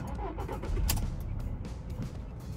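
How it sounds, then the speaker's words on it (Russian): A Volkswagen Polo engine turns over and catches, settling into a low, steady rumble close by. "Завожу, смотрим на обороты двигателя"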